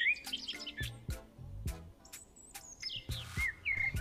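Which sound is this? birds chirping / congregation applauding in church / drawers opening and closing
birds chirping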